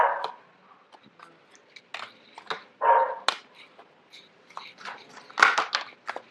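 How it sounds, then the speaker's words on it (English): A dog barks in short, sharp bursts somewhere in the background of a quiet indoor room, several scattered barks at moderate distance, with a faint voice briefly between them. "forgive the dog barking in the background."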